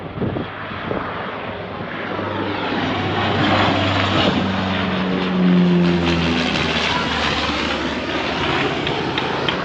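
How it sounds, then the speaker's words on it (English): A propeller airplane passes low overhead above central Nairobi, its loud droning engine swelling to a peak mid-pass with a shifting pitch, then holding steady and close, with no voices. "That plane is so close."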